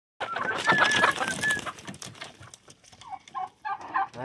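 Pet turkeys gobbling and clucking close by, a dense burst of loud calls followed by several shorter, choppy clucks in quick succession, with no talk.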